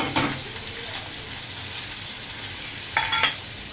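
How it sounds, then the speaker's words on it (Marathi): Onion, green chili and curry leaves frying in hot oil, a continuous sizzling hiss with a couple of brief scraping stir sounds near the start and again toward the end. "कांदा व्यवस्थित तळून घ्यायचा."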